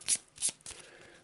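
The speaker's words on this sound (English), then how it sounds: "Give them a quick shuffle." A brown location deck of game cards for Arkham Horror is riffled in two quick, crisp bursts with a softer rustle trailing after, close and fairly quiet.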